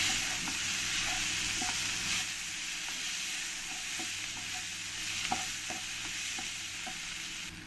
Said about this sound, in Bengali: দিয়ে ভালো করে আমি মিশিয়ে নেব।